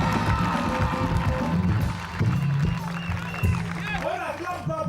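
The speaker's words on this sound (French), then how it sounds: "c'est des cris de joie, des acclamations, des alléluia" Church congregation raising loud joyful shouts and acclamations, a jumble of voices and cheers with some clapping, close and energetic, with speech overlapping.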